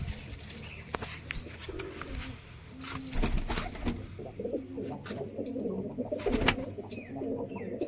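Pigeons coo repeatedly in soft, low rolling calls, with a few brighter chirps and rustling bumps around them at moderate distance.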